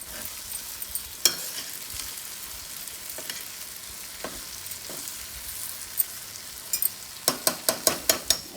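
A chana dal and gongura curry simmers on a stove with coriander powder stirred in, giving a continuous soft sizzle and sparse clinks, then a quick run of sharp spoon taps on the pot near the end.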